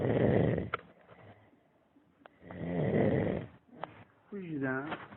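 Heavy snoring from a sleeping young Saudi man, three loud, rasping, growl-like breaths separated by short quiet gaps, recorded up close with a few faint clicks between them.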